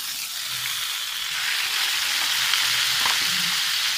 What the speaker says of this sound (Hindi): अभी लहसुन ब्राउन हो गया और अभी इसमें हम डालेंगे मगज़।